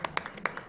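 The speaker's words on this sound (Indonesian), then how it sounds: "Wah, tepuk tangan dulu." A few spaced hand claps at a church gathering, sharp and close, about six distinct claps within a moment.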